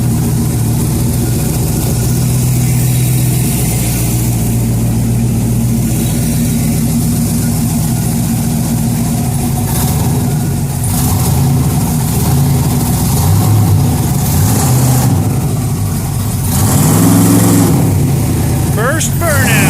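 A 1965 twin-turbo LS Impala SS rumbles loudly nearby, with engine surges and revs building toward a burnout and people talking over the noise.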